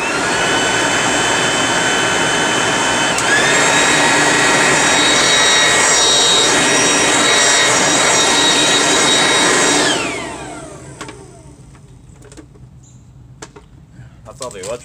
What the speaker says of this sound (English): It's a little underpowered compared to the home light blower, but it still works good.